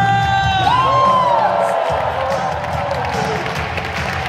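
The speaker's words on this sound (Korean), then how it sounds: "여러분 다시 한번 환영해 박수와 함성!" Crowd at a corporate farewell event cheers and whoops loudly while a large audience applauds, a single rising shout standing out near the start and the mixed cheering holding steady throughout.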